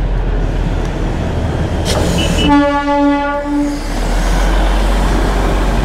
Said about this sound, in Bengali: স্টিম ইঞ্জিন দেখে বুঝতেই পারছো আমরা দার্জিলিং ঢুকে গেছি